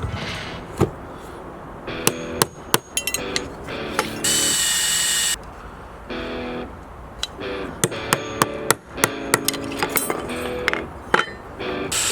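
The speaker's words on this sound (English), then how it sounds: "Now I'm drilling holes for the pins that will hold on the handle." Bursts of a power drill whirring as it drills pin holes in a hatchet handle, interrupted by clinks and knocks of tools being handled, close and fairly loud.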